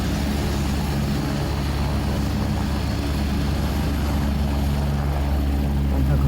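A red helicopter with two spinning rotors makes a steady, loud, continuous whirring drone that holds evenly throughout, with no talk.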